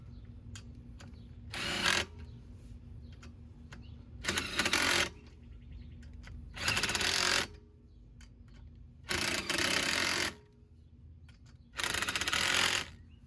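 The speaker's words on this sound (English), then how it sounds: "we're gonna use our impact just to get it all tightened on there" An impact wrench tightens wheel spacer lug nuts on a Toyota GR86 in five short, loud bursts of about one second each. The bursts are spaced a couple of seconds apart, with a quiet garage hum between them.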